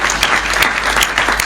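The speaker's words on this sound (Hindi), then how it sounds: "एक बार जोरदार तालियां बजाइए सर" Loud applause from an audience at a Hindi poetry recitation, a brief, dense burst of many hands clapping steadily close by.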